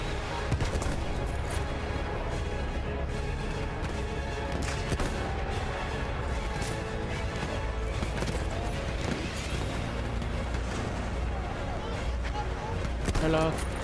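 Gunfire rattles through a Battlefield 1 match, with dense, continuous battle noise, scattered shots and clatter under a player talking over it.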